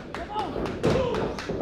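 Heavy thuds and a slap in a pro wrestling ring as one wrestler tries a pile driver on another, thumping repeatedly under a commentator's continuous excited talk.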